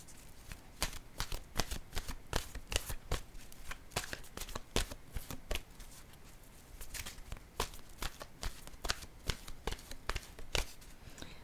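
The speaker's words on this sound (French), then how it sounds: "Je pense que je vais piger une carte maintenant de mon oracle de l'âme intuitive." Oracle cards being shuffled by hand, a rapid run of crisp papery riffles and slaps repeating steadily and close up, with no voices over it.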